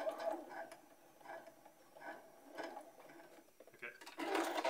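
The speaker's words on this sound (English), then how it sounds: "And let's sew." A sewing machine stitching a fabric face mask, a soft near rhythmic chatter of needle strokes in short runs and pauses, ending in a busier burst.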